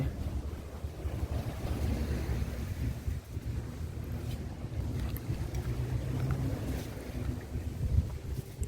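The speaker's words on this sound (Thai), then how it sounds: "ลมเย็นสบาย" A cool breeze blows outdoors at the Wat Khun Samut Chin temple, a soft, constant low rumble of wind across the microphone, fairly quiet and unbroken for several seconds.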